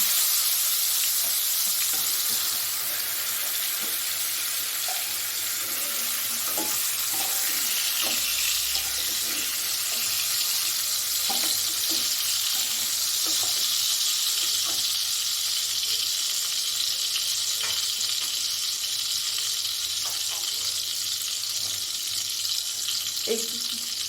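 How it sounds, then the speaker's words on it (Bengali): Pointed gourd and potato pieces frying in oil left over from ridge gourd, a steady loud sizzle throughout with occasional stirring clinks and scrapes. "ভেজে রাখা ঝিঙ্গের তেলের মধ্যে আমি দিয়েছি পটল আর আলুটা, দিয়ে ভালো করে লাল লাল করে ভেজে তুলে নেব।"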